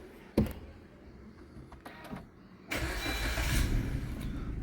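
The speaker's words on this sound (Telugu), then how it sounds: "సో వెహికల్ స్టార్ట్ చేద్దాం" A used Maruti Dzire ZXi AMT with 75,000 km starts up: a sharp click, a few brief mechanical noises, then a crank as the engine catches and settles into a steady idle.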